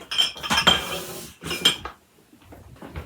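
Ceramic ramekins clink and clatter against a metal baking pan in two short bursts, close by, followed by quieter knocks and shuffling, while being set up for a crème brûlée water bath.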